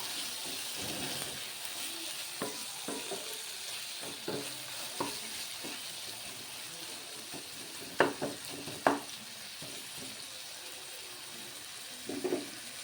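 Two tomatoes frying into masala for a boti (tripe) curry, under a constant close sizzle with scraping stirs and a few sharper clinks of the spoon against the pan.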